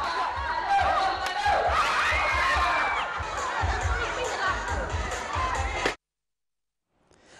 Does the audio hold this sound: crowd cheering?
yes